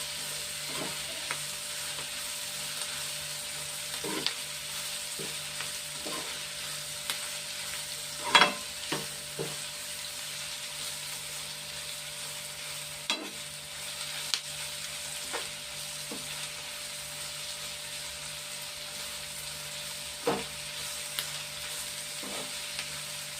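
Onion pieces fry in a pan with a soft, continuous sizzle and occasional light taps and clicks from stirring.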